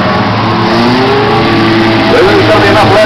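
Race cars running on a circuit during a men's C race: a loud, close engine drone that climbs in pitch as the cars accelerate past, under continuous commentator talk.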